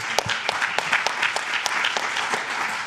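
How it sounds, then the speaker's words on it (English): Audience claps for a panel at a conversational AI conference, a moderate round of applause with distinct individual claps standing out, steady throughout. "Can we all give a round of applause, please,"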